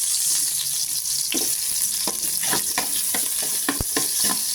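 Garlic and onion sauté in a pan for a salmon-head sinigang, a steady bright sizzle broken by several sharp stirring scrapes and clinks, close and loud with no talking.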